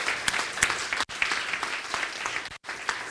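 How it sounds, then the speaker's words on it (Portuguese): A church congregation claps for their pastor, a dense, lively round of applause from many hands, close and continuous with two brief dips. "Vamos dar uma salva de palmas pela vida do pastor Juan"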